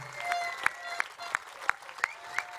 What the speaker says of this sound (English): So we really need to be big hand of applause for them.